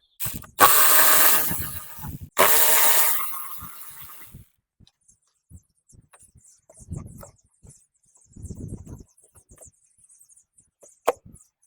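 A ratchet loosens the 10mm bolts on a Toyota Camry air filter box: two loud, rapid ratcheting bursts up front, then sparse faint clicks and quiet handling noises.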